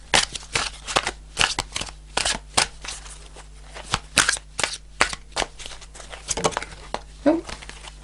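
Tarot cards being shuffled and drawn by hand close up, a run of crisp riffling bursts and sharp card slaps in an uneven rhythm, with a voice speaking briefly among them.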